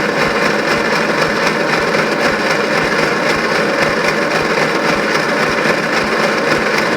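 An engine cranks continuously at full throttle during a compression test on cylinder number 3, a loud, steady, rhythmic churning with rapid pulses throughout and no talk.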